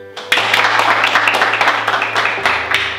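Sustained applause and clapping from an audience at a youth showcase, a dense steady wash of hands filling the whole stretch, loud and continuous with a low hum beneath.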